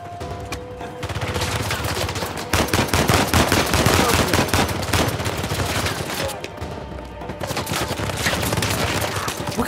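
Gunfire in Uncharted 4 crackles in dense, overlapping automatic bursts with sharp single shots, loud and continuous throughout, joined by scattered impacts.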